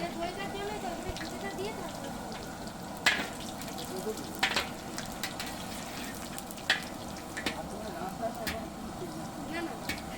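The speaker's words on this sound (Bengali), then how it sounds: "কপিটা দেওয়ার জন্য কয়েকটা বড়িও ভেজে নিচ্ছি" Bori, sun-dried lentil dumplings, fry in hot oil in a pan, giving a steady, fairly quiet sizzle with scattered small crackles and a few sharper pops.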